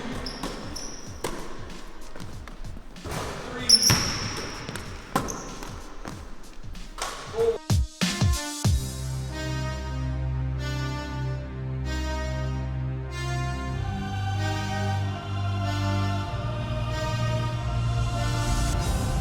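A basketball bouncing repeatedly on a gym floor during shooting practice, with a quick dribbling rhythm and thuds, followed by a loud sustained musical backing track.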